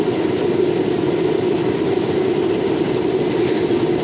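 A local freight train rolls past on the tracks at New Castle, Pennsylvania, making a loud, close, continuous rumble and rattle of wheels and cars with no pauses, and no one speaking.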